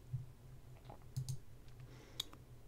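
Computer mouse clicking on a desk, several faint, sharp clicks, some in quick pairs, spaced irregularly over a low background hum.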